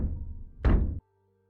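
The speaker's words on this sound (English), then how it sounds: "slam his hand against the front of it, knocking" A hand slamming against the front of a giant statue doorway gives a single heavy, booming knock, loud and close, that cuts off abruptly into silence after a low rumble.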